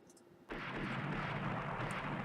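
Heavy naval gunfire striking a warship in the Rule the Waves naval strategy game, with 14-inch shells landing: a sudden loud broadband blast after a quiet moment, then a sustained roaring rumble.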